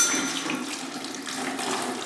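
Water runs steadily from a tap into a pail for mixing grout, a continuous splashing rush with a hollow ring, close and moderately loud with no talking.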